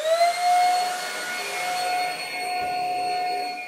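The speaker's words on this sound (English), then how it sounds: "So you bring up to the old Hoover, not the new one." An old Hoover vacuum cleaner runs steadily, a loud close motor whine with a sustained high tone that holds throughout without talk.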